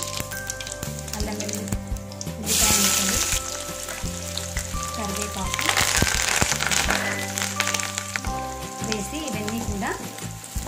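Mustard seeds and cumin sizzle and crackle in about three tablespoons of hot oil, a steady, fairly loud frying hiss with sharp pops, while music plays throughout.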